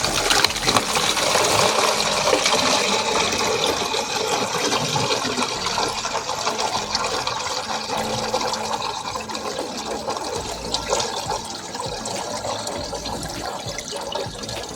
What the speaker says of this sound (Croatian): U prazan balon od 6 litara sipajte vodu pomoću levka.